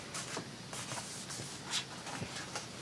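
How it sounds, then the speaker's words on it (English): A bone folder is rubbed along folded paper for a collage, giving quiet, dry scraping strokes repeated in short bursts against a hushed background. "Let me use the bone folder on it."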